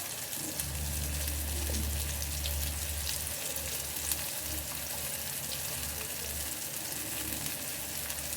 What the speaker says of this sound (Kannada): ಇದನ್ನು ಆದಷ್ಟು ಸಿಮ್ಮಲ್ಲಿ ಇಟ್ಕೊಂಡು ಫ್ರೈ ಮಾಡ್ಕೊಳ್ಳಿ.